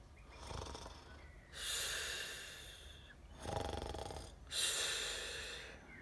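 Snoring from a sleeper deep in a hole, part of a children's frog story: two slow, heavy snore cycles with rasping breaths drawn in and pushed out, close and fairly loud with no talk.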